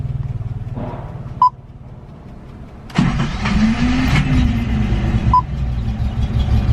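An old Nissan Skyline engine cranks and fires up, starting as a low rumble and then catching to a louder, steady idle that swells with a brief rev. No one speaks.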